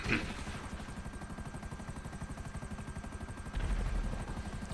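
A video game helicopter in GTA V Online, its rotor thumping steadily throughout with a droning engine hum, loud and continuous, swelling slightly near the end.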